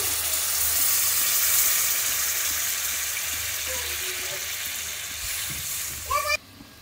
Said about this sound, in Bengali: তেলটা ছেড়ে দিয়েছে, এবার আমি জল দিয়ে দেব।